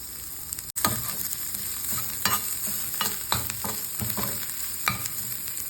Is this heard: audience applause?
no